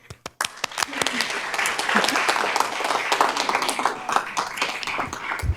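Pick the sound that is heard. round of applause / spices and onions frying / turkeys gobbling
round of applause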